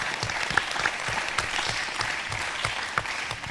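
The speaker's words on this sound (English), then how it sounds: "So a round of applause for him." Audience applause for a student at a civil rights panel on race, faith and justice, a steady dense patter of many hands clapping throughout, moderately loud and fairly close, with no talk over it.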